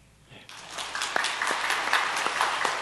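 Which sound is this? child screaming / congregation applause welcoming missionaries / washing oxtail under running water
congregation applause welcoming missionaries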